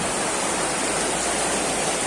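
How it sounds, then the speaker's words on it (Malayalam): A dense, steady roar of pouring water fills the whole clip, loud and unbroken like a heavy downpour close by, windless monsoon rain in Kerala. "കാറ്റില്ലാതെ ഒരേ മഴ പെയ്യണേ"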